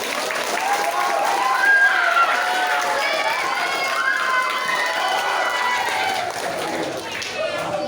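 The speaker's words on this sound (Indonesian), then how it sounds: "Tepuk tangannya dulu dong" Applause from a school congregation at a Catholic new school year Mass at St Benediktus, a steady broadband clapping wash with excited voices and shouts rising over it throughout.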